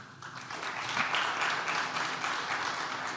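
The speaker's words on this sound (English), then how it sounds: "Yeah, unfortunately, you clapped" An audience applauding at a political speech, a sustained wash of clapping that swells and holds, moderately loud and without words.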